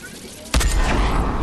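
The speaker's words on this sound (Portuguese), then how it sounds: "3 tiros que eu errei" A gunshot goes off in the video game Fortnite, one sudden loud crack midway that leaves a sustained, noisy echo, with no speech.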